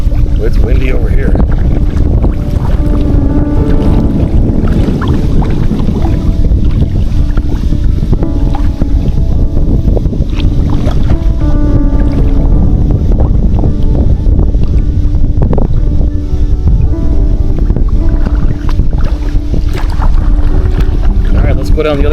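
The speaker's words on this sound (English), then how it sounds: "It's windy over here." Strong, steady wind buffets the microphone throughout at Hayes Lake, Nebraska, a loud continuous low roar with water and boat noise mixed in, and a voice speaking now and then.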